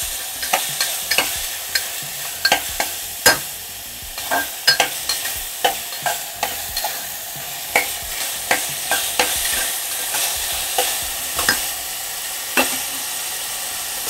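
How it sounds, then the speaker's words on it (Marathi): Onion frying in a pan on a high flame for Mumbai rassa, with a constant sizzling hiss and a string of sharp spatula clicks and scrapes against the pan at irregular intervals, close and clear, with no talk. "छान फ्राय होऊ द्यायचा कांदा."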